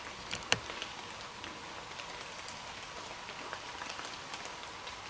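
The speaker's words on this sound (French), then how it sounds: "Les amis, il pleut." Rain pattering on leaves and ground in a forest at night, a soft, even hiss of drops with a couple of sharper close taps early on.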